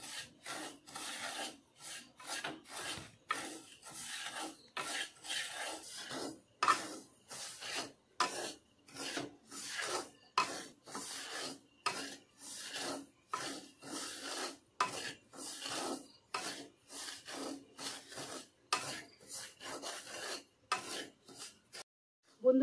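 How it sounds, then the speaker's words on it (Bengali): Semolina lightly roasted in a pan over medium heat, stirred with a wooden spoon: steady, rhythmic scraping and rubbing strokes repeat close up for over twenty seconds, with no talking. "দিয়ে মিডিয়াম আঁচে আমি সুজিটা হালকা ভেজে নেব।"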